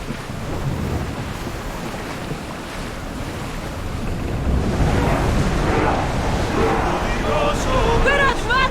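Ship under sail at full speed through open ocean in Assassin's Creed Odyssey, with a steady roar of surf and rushing wind building louder toward the end while crew voices shout over the water.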